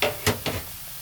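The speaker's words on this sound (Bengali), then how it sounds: "পেঁয়াজটা আমি হালকা ব্রাউন কালার করে ভেজে নেব। বন্ধুরা, এবার দেখুন এর ভিতরে আমি একটু কাঁচামরিচ দিয়ে দিলাম।" Onion and green chili fry in a pan, browning lightly, with a soft sizzle and two quick stirring scrapes, close and fairly quiet.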